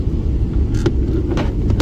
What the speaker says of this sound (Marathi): पुढून किती छानशा गाड्या येत आहे